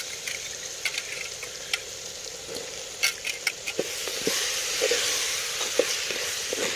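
Beans, potato and carrot sizzle and fry in a tomato masala, a steady crackling hiss with scattered pops and stirring scrapes, close and moderately loud.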